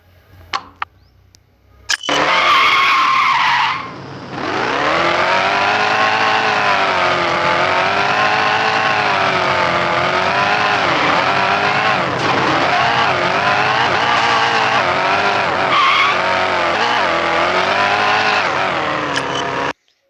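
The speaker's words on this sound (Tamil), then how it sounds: "இப்போ பாருங்கள், ஸ்கிட் அடிக்கிறேன்." A BMW skids in a video game, a loud continuous squeal of tyres and engine that starts abruptly and holds steady for nearly twenty seconds, rising and dipping slightly in pitch.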